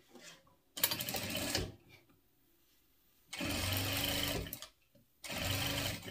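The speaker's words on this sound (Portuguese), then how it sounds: "E aqui, então, a gente vai passar uma costura prendendo." A sewing machine runs in three bursts, stitching a seam to hold a lining in place, each a steady close whirring hum separated by short quiet pauses.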